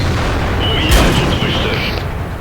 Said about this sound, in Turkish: Spotsuz vurdu adamlar bize.